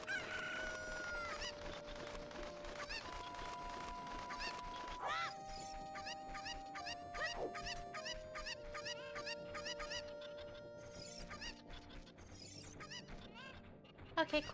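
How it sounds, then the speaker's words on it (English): Chickens clucking and a rooster crowing in the video game Ocarina of Time, a series of short repeated calls at moderate level over game music and tones, with a sharp clatter near the end. "Come here, chicken."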